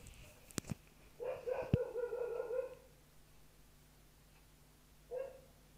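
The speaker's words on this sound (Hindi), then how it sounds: "यार कुत्ते कितने भौंकते हैं भाई।" Dogs bark outdoors in a short burst of yaps followed by a sustained run of barking and one more bark after a pause, fairly close behind a quiet gaming setup.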